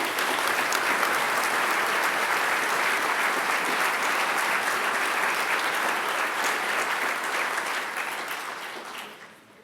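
Sustained applause from a graduation ceremony audience, dense and even, filling the hall before tapering off toward the end.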